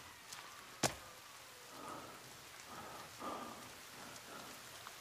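Rain in the survival game The Forest falls quietly and steadily, with a sharp crack near the start and a few soft swells of hiss after it.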